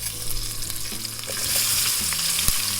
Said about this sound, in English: I'm gonna take these onions, I'm gonna put them in to the oil.